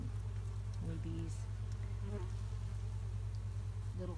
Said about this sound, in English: I can see about 8 different species of bees right now from one little glance